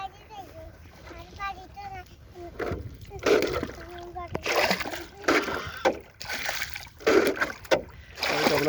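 A small boat pushes through water with intermittent sloshing and splashing bursts, while children and adults chatter nearby throughout.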